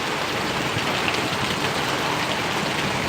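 Steady rain pours down on Paravadi village in Gariyadhar taluka, a dense continuous hiss filling the air close by without pause or voices.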